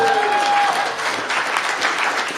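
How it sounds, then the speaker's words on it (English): Audience applause at a clean energy bill signing, a steady wash of clapping hands filling the room from start to finish at fairly even loudness. "That should get an applause line"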